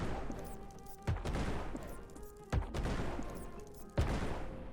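Mouse bomb explosions blasting through hive and maze walls while mining in Core Keeper, three sharp bursts spaced about a second and a half apart over a steady background hum, no voices.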